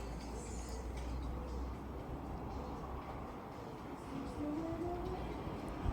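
A CrossCountry train from Cardiff Central to Nottingham rumbles past at speed, a steady distant rolling roar that swells slightly near the end, heard alone.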